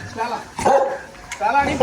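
A dog gives a few short, yappy barks close by, mixed with whimpering tones in quick succession.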